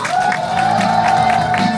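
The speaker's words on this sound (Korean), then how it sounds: "우리 원장님을 박수 한번 들어 모시겠습니다" Parents at the 2025 Gyeongsan Seongmo Kindergarten recital applaud to welcome the principal, a continuous, fairly loud patter of many hands clapping with a few light cheers mixed in.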